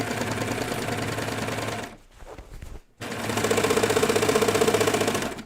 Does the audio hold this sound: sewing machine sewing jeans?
yes